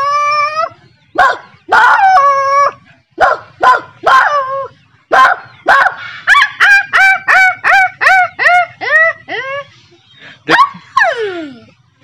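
A young boy imitates a native street dog with his voice, producing a rapid series of loud, close, yelping barks and whiny howls in bursts, ending with a long falling howl.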